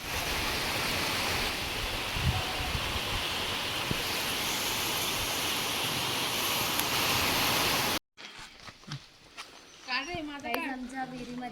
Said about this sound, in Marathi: पावसाचा आवाज आहे. पाऊस पडतोय गाईस.